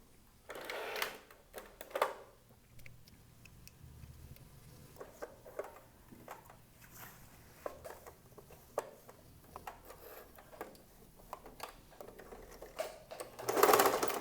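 Bursts of sewing machine stitching on a trouser back pocket, short runs of rapid needle chatter separated by pauses, handling rustles and fabric shuffling, fairly close with no speech.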